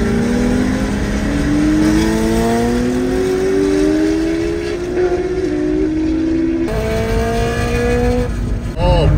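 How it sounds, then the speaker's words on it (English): A motorcycle and a Corvette accelerate hard side by side in a street race at a TX2K event; loud engine roars climb through the gears with rising pitch, close and continuous throughout. "Oh, bike versus Corvette."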